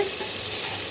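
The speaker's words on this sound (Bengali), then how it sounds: "ফুলকপিগুলো ভাজা ভাজা হয়ে গেছে" Cauliflower pieces fry in hot oil in a pan while being stirred, a close, steady sizzle with scraping stirs running continuously through the short moment.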